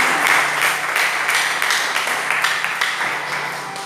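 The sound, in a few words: congregation applauding in church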